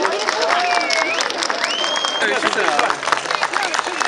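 Crowd applause at an outdoor highland festival as a guest is welcomed to the stage, clapping mixed with babble and cheering, with tonal music or whistles threading over it.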